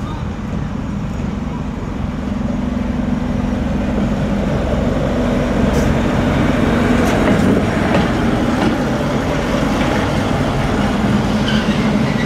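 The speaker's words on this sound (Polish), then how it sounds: "Lokomotywa o dosyć ciekawej konstrukcji i w zasadzie dzisiaj bardzo rzadko już spotykana." SM32 class 401Da diesel shunting locomotive running nearby, a steady loud low engine drone with rail clatter throughout, and a few faint squeals near the end.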